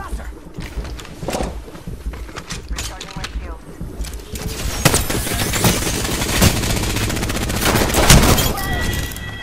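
Rapid bursts of gunfire from the Apex Legends video game rattle through a loud, dense battle mix, with shots layered over each other as players talk over the action.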